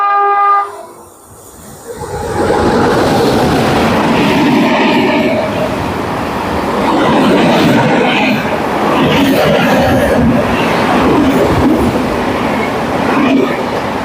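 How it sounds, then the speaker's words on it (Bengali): A loud freight train of coal-filled wagons rolling through Madhusudanpur station, opening with a horn blast, then a sustained close roar and clatter of wagons passing. "ওয়াগনটা ভর্তি কয়লা।"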